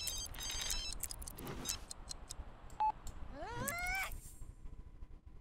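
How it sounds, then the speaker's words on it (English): A telephone rings in the video game The Sims 3: Generations, with a few short electronic tones and chirps, then a rising warbling melodic ring near the end, all moderately loud over quiet background. "Sir, your phone's ringing."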